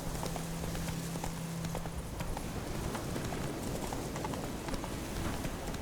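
Roach, a horse in a video game, clip-clops along at a steady run, with hoofbeats continuous and moderately loud over a constant ambient game backdrop.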